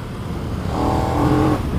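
A KTM SuperDuke 1290 R motorcycle engine accelerates from a steady drone into a louder rising rev, the tone climbing over nearly two seconds, close and unaccompanied by talk.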